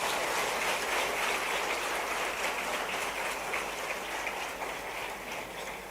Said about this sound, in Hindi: जरा जोरदार ताली दोनों के लिए बजा दो।